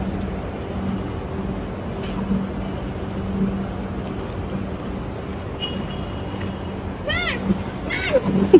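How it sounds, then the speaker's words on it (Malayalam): A cat meows a few times toward the end, with short rising-and-falling cries over a low background hum and faint voices in a home decor shop. "പൂച്ചനെ പേടിപ്പിക്കണ്ട"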